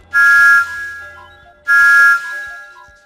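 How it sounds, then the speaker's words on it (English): Steam engine whistle from a Thomas and Friends cartoon episode: two short, bright whistle blasts about a second and a half apart, clear and close with faint background between. "I whistle like this."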